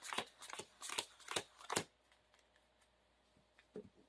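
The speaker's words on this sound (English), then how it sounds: "shuffle our deck one last time, and then draw our 6 cards" Quick riffling bursts of a Marvel Champions card game deck being shuffled, about six sharp flutters in a row, then near silence with a couple of soft taps.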